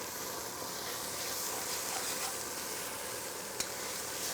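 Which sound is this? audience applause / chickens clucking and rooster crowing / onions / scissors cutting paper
onions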